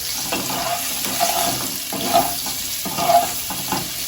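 Cauliflower florets frying and being stirred in a hot pan, a steady broadband sizzle with periodic scraping stir strokes recurring about every second, close and moderately loud, no voices.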